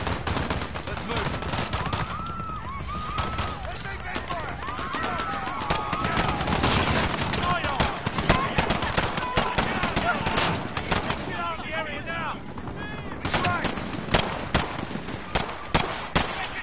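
Rapid gunfire in the Call of Duty: Modern Warfare (2019) campaign: dense, loud bursts of automatic and single shots crackle almost nonstop, and voices speak over them.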